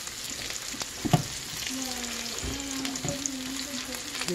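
Onion sizzles in a hot pan beside a cooking pork steak, a soft steady crackle with a few louder pops and stirring scrapes, heard close and alone.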